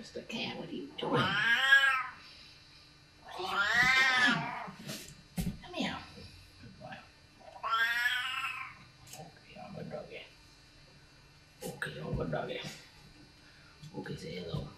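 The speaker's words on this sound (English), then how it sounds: "Mr. Cat, what are you doing?" A cat gives long, drawn-out yowling meows, three loud wavering calls spaced a few seconds apart, with quieter noises and a person's voice in the gaps between them.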